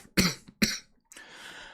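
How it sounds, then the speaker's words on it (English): Two sharp, close coughs in quick succession, followed by a softer breathy throat sound, all from a single person. "I apologise for the cough."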